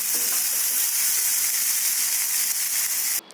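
Potato and pointed gourd fry with onion in a pan, making a loud, continuous hissing sizzle that runs unbroken, then cuts off abruptly at the end, with no talking.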